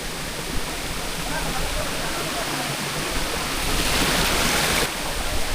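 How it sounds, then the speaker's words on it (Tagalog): Talay Falls in Luisiana, Laguna, Philippines, rushes in a loud, steady roar of strongly flowing water that stays constant throughout. "Tapos ito naman ang Talay Falls pagka malakas din ang tubig."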